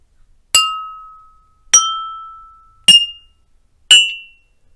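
Four empty glasses are tapped one after another, each giving a bright clear ring that fades slowly, with higher pitches toward the end.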